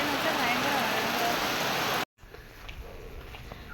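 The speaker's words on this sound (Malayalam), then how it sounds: "ഭയങ്കര മഴയെന്ന് വെച്ചാൽ ഭയങ്കര മഴ" Heavy rain pours down in a steady, dense hiss for about two seconds, then cuts out abruptly, followed by a quieter stretch of faint outdoor ambience with light scattered sounds.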